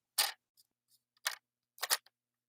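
Craft paper being cut with scissors or a die-cutting tool at a tabletop crafting session, three short, crisp snips spaced about a second apart with faint clicks in between, close and quiet with no talk.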